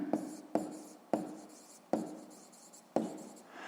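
A math exercise is written by hand, giving five distinct scratchy pen or pencil strokes in an uneven rhythm, each a short rasp that fades, heard close and quiet.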